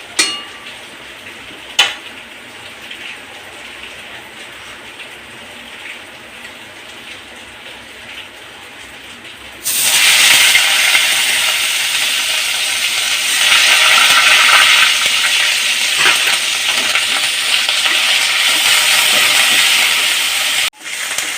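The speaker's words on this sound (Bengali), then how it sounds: "ওটা ভালো করে গরম হয়ে গেলে আমি পেঁয়াজটা দিয়ে দেবো" Onions drop into hot oil for a Bengali doi katla fish curry. After a quiet stretch they burst into a loud, steady sizzle that carries on to the end.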